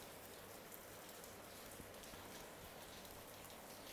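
Rain falling steadily as an even, faint hiss of drops with no breaks or voices.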